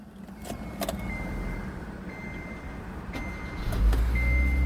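Keys jangle briefly a few times in the quiet interior of a Kia K3 with a GDI engine, with faint clicks and a low engine hum rising near the end.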